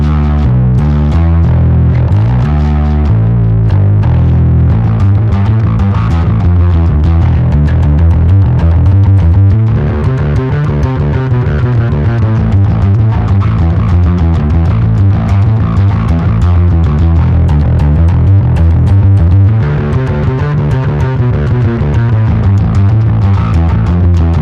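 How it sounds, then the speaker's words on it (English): Bass guitar plays with a heavily distorted, gritty tone, a continuous loud riff of repeated low notes with rhythmic attacks, alone without talk. "I've got this distorted tone."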